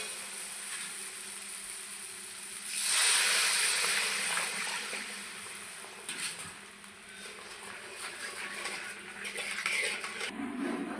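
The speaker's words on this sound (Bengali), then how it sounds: "আমি এখন জল দিয়ে দিব।" Water poured into a pan of fried spice paste for a fish roe curry, a soft hissing splash rising briefly, then faint bubbling and clinks of utensils against the pan.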